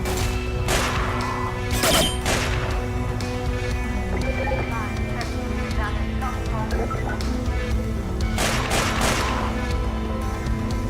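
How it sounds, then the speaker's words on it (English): Pistol shots ring out in a modded shooter game set in a complex with combine tech, sharp cracks arriving in small clusters over a constant loud mechanical hum and game ambience. "Pistol is so powerful."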